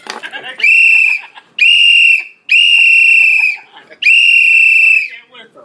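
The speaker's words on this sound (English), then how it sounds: "Blow the whistle." A sharp referee-style whistle is blown four times in long shrill bursts, loud and close, with short gaps and a little background talk between blasts.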